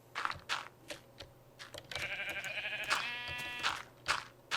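A sheep bleats in Minecraft, one clear wavering bleat in the middle amid repeated clicking and tapping sounds, moderately loud with no speech.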